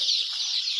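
Andijan black chickens cluck and chirp together in a steady, high-pitched chorus, heard close with no voices over the flock.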